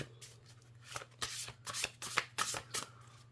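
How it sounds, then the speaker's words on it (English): Oversized tarot cards are shuffled by hand, a run of quick papery riffles and rubs in uneven bursts, close and fairly quiet, over a low steady hum with no talking. "the cards are so big and they don't shuffle nice"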